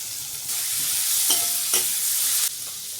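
Onion tossed into a pan of oil with garlic, ginger, green chili and curry leaves bursts into a loud sizzle, with a couple of spoon scrapes and stirring knocks before the hiss drops back, close and without voices.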